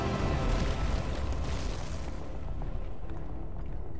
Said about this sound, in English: They fell around him and the explosions went outward.